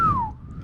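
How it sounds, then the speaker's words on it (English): A man whistles a single short gliding note that falls in pitch, brief and fairly close, with a low background murmur behind it. "Well, no, just whistle regular."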